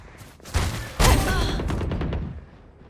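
Gunfire from a weapon fired while the shooter runs in Valorant: a burst of loud, close shots starting sharply, followed by a sustained stretch of rapid firing and game effects that tails off.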